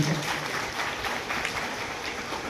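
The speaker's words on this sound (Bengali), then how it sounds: "একবার দিদার জন্য ছোট্ট করে একটা হাততালি দেব সবাই" Short burst of audience applause at a school stage event, dense steady clapping from a crowd at moderate loudness for a couple of seconds.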